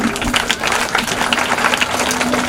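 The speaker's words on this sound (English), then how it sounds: "Big round of applause" Steady applause from an audience at a school Independence Day celebration, a dense continuous patter of many hands clapping close by for the student performers, with a faint sustained tone running underneath.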